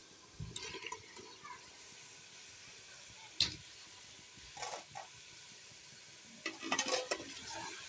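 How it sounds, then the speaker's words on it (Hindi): Potatoes fry and get stirred in spiced oil in a pan, a low steady sizzle under a few scraping stirs and clinks that come in short bursts, close by. "अब हम इसमें आलू भून लेंगे।"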